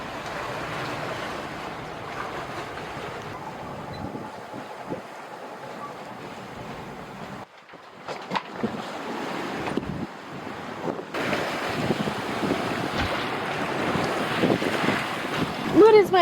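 A sailboat running downwind at 6 to 8 knots in 12 to 14 knots of wind on a Pacific crossing, with steady wind rush, buffeting on the microphone and wash of waves along the hull, growing louder toward the end.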